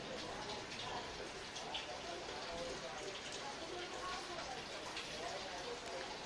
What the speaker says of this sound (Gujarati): જો ગાઈઝ અહીંયા વરસાદ આવે છે